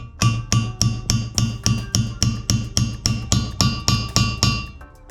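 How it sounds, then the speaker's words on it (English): A hammer taps a part onto an engine cylinder head of a Ford Focus ST/RS during a cam install. About fifteen sharp metallic strikes come in a steady, fairly quick rhythm at close range. "When you tap it, you'll hear a change in the sound, so it sounds like you're smacking straight on metal."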